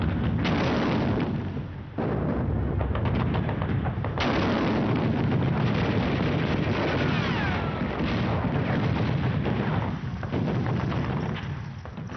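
Savage World War II Pacific battle fire, with Japanese defensive lines shelled and shot at on an island: dense, continuous artillery booms and rattling gunfire pile up loudly with barely a pause.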